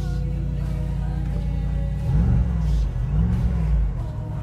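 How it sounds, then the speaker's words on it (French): A Mercedes car engine idles with a low, steady rumble, then revs up twice in smooth swells before settling back, close and fairly loud. "Oh, regardez, écoutez le son de ce moteur."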